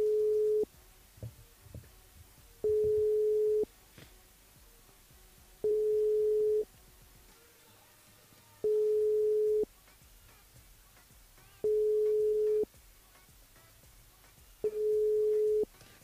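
A telephone rings unanswered through a handset line, six evenly spaced steady tones about a second long, with quiet gaps and faint background noise between them.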